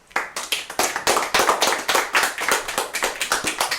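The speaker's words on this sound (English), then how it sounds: "Let's give Monk one more round of applause." Small audience clapping at a talk show taping, close and fairly loud, with distinct individual claps in a steady irregular patter lasting throughout, no voices.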